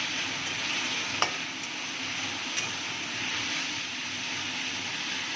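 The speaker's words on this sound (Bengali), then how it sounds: "পেঁয়াজ রসুনটা আমি ভালো মতো এখানে ভেজে নেব" Onion and garlic fry in oil, filling the clip with a constant dense sizzle and a couple of faint clicks from stirring, with no voices.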